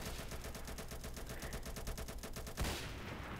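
Rapid automatic gunfire in a video game, aimed at a submarine, rattling steadily for about two and a half seconds before a sharp impact and a lingering rumble.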